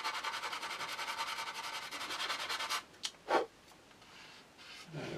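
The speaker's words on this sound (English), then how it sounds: "I'm just going to lightly sand that until that disappears." A sanding stick lightly rubs a plastic part of a 1/72 Academy F/A-22A Raptor model kit, producing a fast rhythmic rasping close to the ear that stops partway, followed by a few faint soft scrapes.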